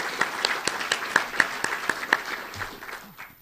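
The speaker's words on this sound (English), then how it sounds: "a round of applause." An audience at a Lincoln history lecture claps in a short, fairly close burst of individual hand claps. The applause is moderately loud and thins out by the end.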